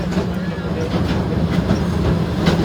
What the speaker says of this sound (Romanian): Trenurile pe cartament mic.